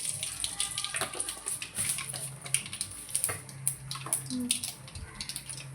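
Mustard seeds splutter in hot oil in a kadai, giving soft, irregular crackles and pops over a faint background hiss, fairly quiet throughout.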